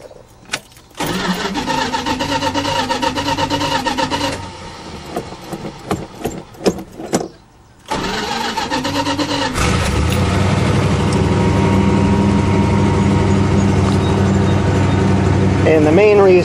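An old Dodge Polara's engine cranks and catches, revs in uneven bursts, then settles into a loud, steady idle.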